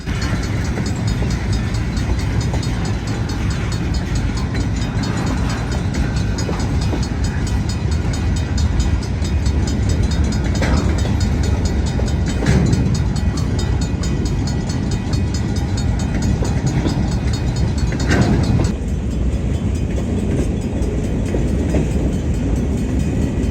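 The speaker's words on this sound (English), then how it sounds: "we can see the train passing under Highway 22" A train rumbles past nearby, a loud steady roar of rolling wagons with occasional clanks and knocks, continuing throughout without any talk.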